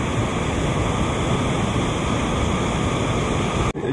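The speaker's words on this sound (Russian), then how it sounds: "Облагораживает еще единственный водопад." A jungle waterfall at Teluk Bahang, Penang, near a construction site, pours in a constant, dense broadband rush that stays steady and close before cutting off abruptly at the end.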